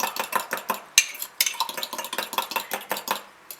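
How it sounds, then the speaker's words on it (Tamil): Mug cake batter for an eggless coffee mug cake, with baking powder and coffee added, is briskly mixed in a mug, the spoon clinking and scraping in a quick, even rhythm. "இது கூடயே பேக்கிங் பவுடர், காஃபி இதையும் போட்டு மிக்ஸ் பண்ணுவோம்."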